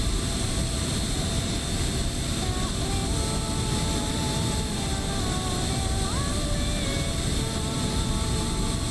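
An aircraft landing and taxiing in the Microsoft Flight Simulator video game, a constant loud engine drone with faint tonal whines shifting over it, steady throughout.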